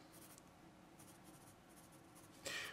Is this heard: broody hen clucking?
no